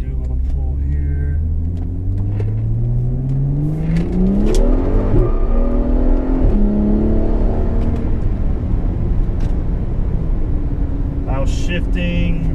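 A 2011 BMW 135i with DCT gearbox and stage 2 tune accelerating through the gears: a loud engine note climbs steadily, drops at a quick shift, then rises again, heard from inside the car.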